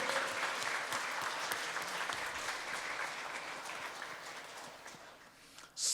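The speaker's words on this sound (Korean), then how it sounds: "영원까지 나를 사랑하는 하나님께 한번 영광의 박수 올려드립니다." Applause from a church congregation at a Sunday worship service, a steady crowd of clapping at moderate distance that holds evenly for several seconds and then eases slightly near the end.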